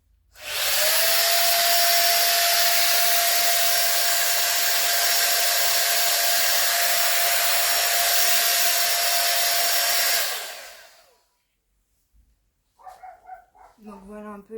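A hair dryer fitted with an attachment runs steadily at full blast for about ten seconds with a constant whine, then cuts off, leaving a brief silence before a person starts talking.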